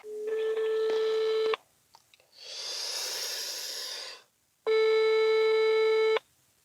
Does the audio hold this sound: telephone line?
yes